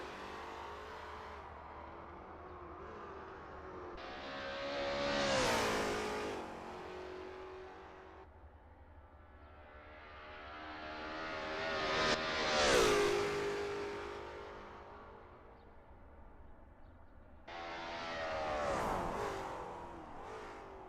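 A Lola T70 MkII Spyder race car laps Bathurst, its engine rising and falling in pitch through repeated gear changes as it sweeps past several times, swelling loud when near and fading between passes.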